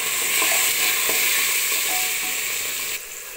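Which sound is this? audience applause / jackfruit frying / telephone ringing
jackfruit frying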